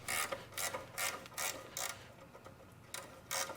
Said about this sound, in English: Just take a ratcheting wrench.